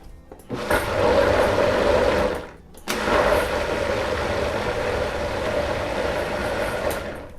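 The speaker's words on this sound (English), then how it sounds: "once you add your eggs in, just give it a quick kind of pulse to get them incorporated" A blender pulses chocolate beet cake batter with eggs in two loud, close whirring bursts. A roughly two-second pulse is followed by a short pause and then a longer run of about four seconds.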